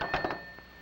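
A cartoon telephone rings in a few quick bright bursts, followed by a thin steady tone that lingers faintly after the ringing stops, with no talking.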